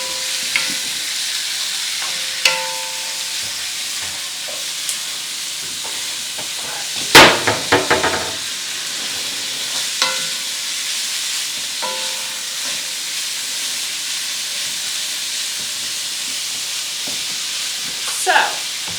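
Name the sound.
taco meat sizzling in a pan while being broken up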